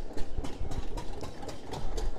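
Tractors arrive at the fodder market in Bhiwani, Haryana, their engines giving a steady, fairly close low rumble of idling with a faint rhythmic throb and no talk over it.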